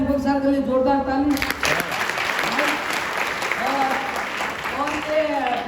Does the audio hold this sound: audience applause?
yes